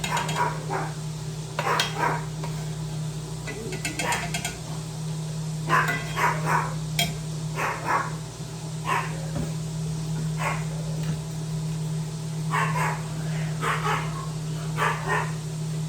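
A Pomeranian barks in repeated short, high yaps in irregular bursts throughout, near and fairly loud over a steady background hum, with no one talking.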